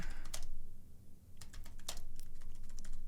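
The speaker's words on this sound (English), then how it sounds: "Let me learn how to type." Close, crisp clatter of typing on a computer keyboard, quick bursts of keystrokes broken by a short pause partway through.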